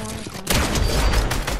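Rapid, loud bursts of gunfire from a Fortnite match, with overlapping shots that sound like a close-range firefight filling the whole moment.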